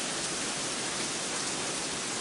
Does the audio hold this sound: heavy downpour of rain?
yes